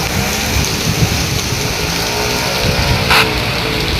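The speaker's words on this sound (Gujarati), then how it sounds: "તૃપ્તિબેનને તો વરસાદમાં નાઈને" Steady rain hisses throughout, with a brief brighter splash or passing vehicle swish near the end; no voices.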